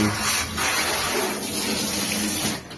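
Water gushes out of a drained household water heater, a boiler not cleaned for several years, in a steady, loud, close rushing spray that continues without a break and has no talk over it.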